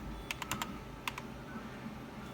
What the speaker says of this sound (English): When I go to New Tab and I type in Glowforge